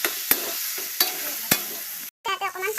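Mashed potato being stirred into a Bhakua fish curry with tomato in a pan, Assamese style: three evenly spaced scraping strokes over a soft sizzle, a brief pause, then quicker rough stirring. No voices.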